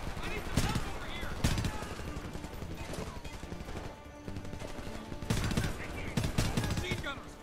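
Machine gun fire and rapid gunshots ring out in the PC shooter game Homefront, in loud repeated bursts that come and go over a steady battle din, with a voice talking over them.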